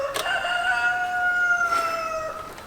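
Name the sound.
rooster crowing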